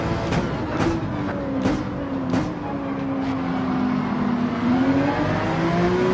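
A race car in Gran Turismo 7 on the Daytona racetrack accelerates hard through its gears, the engine note climbing and dropping with each shift, loud and steady throughout.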